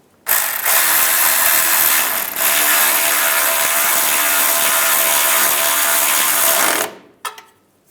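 A ratchet wrench spins rapidly to tighten shield bolts under a 2007-2013 Chevrolet Silverado, a loud, close, continuous buzzing clatter for about six seconds with a brief pause, ending in a short final click.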